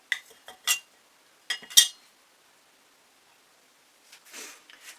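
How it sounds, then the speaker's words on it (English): A stainless steel palette knife scrapes and clinks against a palette laden with fluid acrylic paint in a few short, sharp metallic strokes, followed by a quiet pause and softer scraping. "Stainless steel palette knife."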